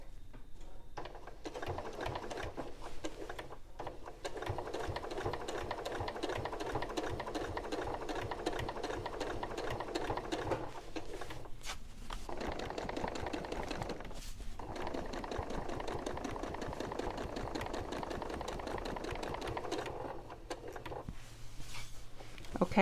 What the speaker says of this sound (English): I'm just going to sew to the corner.